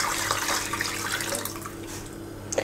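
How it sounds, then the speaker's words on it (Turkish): Meat broth poured into a pot while cooking a wedding soup, a steady close watery rush with a splashing burst near the end. "Hemen ardından et suyumu ekliyorum."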